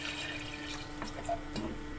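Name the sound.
water poured into pressure cooker on gas stove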